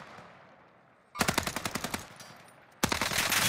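Automatic gunfire in the video game Warzone: a rapid burst of about ten close, sharp shots, a brief pause, then another sustained burst, loud over quiet background.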